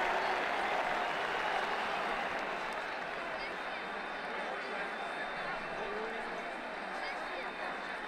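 Continuous crowd applause in a cricket video game during a New Zealand versus Australia Champions Trophy match, a steady wash of clapping that tapers slightly partway through, with commentary voices talking over it.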